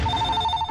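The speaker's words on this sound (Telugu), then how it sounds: "అయ్యో ఫోన్" A telephone rings in a film scene with a brief, steady electronic tone held for under a second, fairly loud over a low background.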